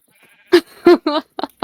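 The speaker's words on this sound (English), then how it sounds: "Oh, we got a sheep in there too." A Minecraft sheep bleats several times in quick, loud, close bursts, the short nasal cries coming in a broken sequence with almost no other sound around them.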